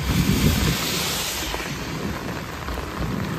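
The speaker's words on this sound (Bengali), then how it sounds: "বাজ পড়ছে, তাড়াতাড়ি রুমে ফিরতে হবে" Thunder rolls low during a heavy rainstorm at Jhakri Falls Park in Gangtok, a rumbling swell early on beneath the constant loud hiss of pouring rain, with some wind buffeting the microphone.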